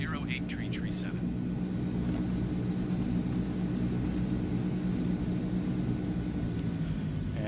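Transall C160 cargo turboprop in Microsoft Flight Simulator, a loud steady engine roar with a constant high whine throughout, and a voice briefly speaking over it at the start.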